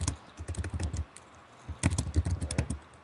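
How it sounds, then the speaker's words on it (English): Typing on a computer keyboard during a tabletop role-playing game session: two bursts of quick, close, crisp key clicks separated by a short pause, with no talking over them. "typing."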